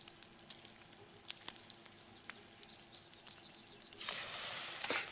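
Meat cooking on a fire in the survival game Enshrouded, a faint crackle with light ticks, then a louder hissing sizzle bursting in for the last second, no voices.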